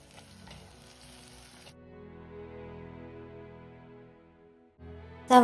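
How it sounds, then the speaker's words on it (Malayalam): Sliced onions sautéing in a pan for chicken curry give a steady, moderate sizzle with soft stirring, thinning to a quieter fry before a loud clatter at the very end. "നന്നായിട്ട് ആ പച്ച മണം മാറുന്നത് വരെ ഉള്ളി ഒന്ന് വഴറ്റിയെടുക്കുകയാണ്"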